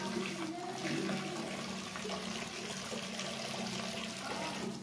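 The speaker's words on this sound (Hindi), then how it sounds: "जैसे ही नल चालू करेंगे यहाँ पे खोलता हुआ पानी आना शुरू हो जाएगा" Hot water runs steadily from a tap fed by a gas geyser, a continuous hissing splash of moderate loudness that holds unchanged from start to end.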